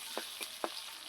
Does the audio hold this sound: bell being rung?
no